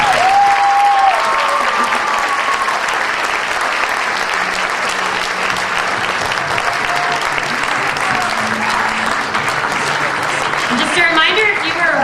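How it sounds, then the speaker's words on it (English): Sustained loud applause from a pageant audience fills the hall for the whole stretch, with crowd murmur and a few voices speaking over it. "Let's have a big round of applause."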